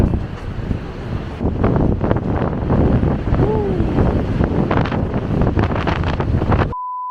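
Strong gusting wind roars into the microphone on Brighton Palace Pier during a storm, loud and buffeting throughout, ending in a short tone.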